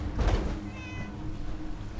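A cat meows in the video game Fallout 76, a single short, fairly close call rising over a low steady game ambience, with no talk.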